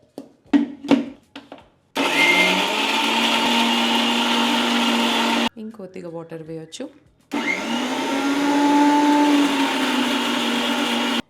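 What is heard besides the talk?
mixer grinder blending garlic into paste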